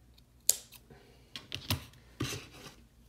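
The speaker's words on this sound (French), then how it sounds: "Alors je coupe mon fil." Scissors snip through yarn during a Tunisian crochet project, a few quiet, sharp clicks spaced out over a few seconds in a calm indoor setting.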